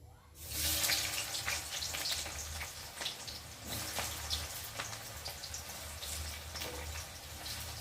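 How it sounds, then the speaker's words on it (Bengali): Chopped onions frying in hot oil in a home kitchen pan where bay leaf has already been heated, giving a steady close sizzle with small crackles that runs continuously, with no talking. "এখন আমি পেঁয়াজগুলোকে দিয়ে ভালো করে ভেজে নেব"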